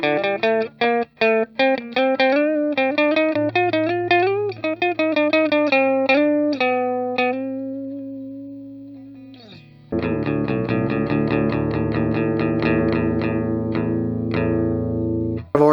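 Electric guitar played through a Sofadio overdrive/booster pedal with light grit: a quick run of plucked notes, then a long sustained note that fades, then loud strummed chords ringing out.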